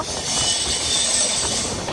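A steady, loud rail rumble with a high metallic hiss comes from the wheels of the Mumbai LTT to Kakinada Port Express, a three-engine train, as they skip on the track during a brief continuous passage.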